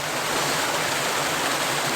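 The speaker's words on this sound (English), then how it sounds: "this waterfall here, it's really small." Small waterfall spilling into a low woodland stream after little rain, a steady close broadband rush of running water that holds even and continuous throughout with no voices over it.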